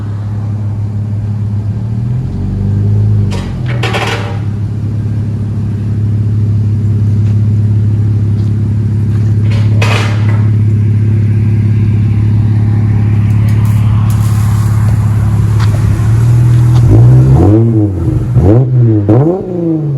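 A Dodge Charger GT V6 engine idles with a deep exhaust drone, then revs up and down several times, the pitch rising and falling loudly toward the end.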